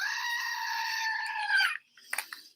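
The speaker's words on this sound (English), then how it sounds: "That deserves a screaming goat." Screaming goat sound effect: one long, loud, strained bleating scream lasting most of the clip, cut off abruptly and followed by a few faint clicks.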